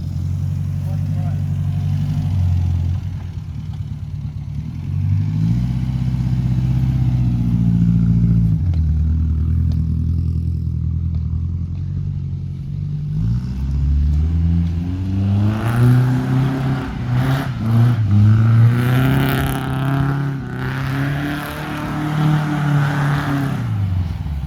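Toyota KE70 car engine running on a test drive, its low rumble swelling into louder revving with rising and falling pitch in the second half, steady throughout with some clatter.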